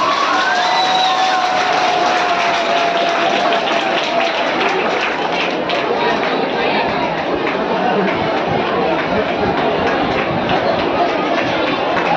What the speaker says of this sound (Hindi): जोरदार तालियों से ऐसा का स्वागत